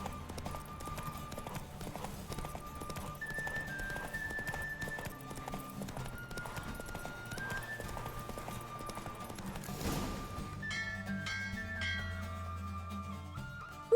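A horse gallops through a race in The Witcher 3, steady clip-clop hoofbeats running under a continuous bed of game music and effects, with a brief whinny-like swell near the end.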